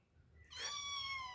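A kitten gives one clear, drawn-out meow in a quiet room, close and fairly loud, following a brief faint rustle.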